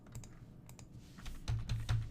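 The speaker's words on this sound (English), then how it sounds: "I'm pressing the keys" Keys tapped on a computer keyboard while working on a web interface for a TR1 robot: a quick, uneven run of soft clicks that grows firmer toward the end, close and alone with no talk.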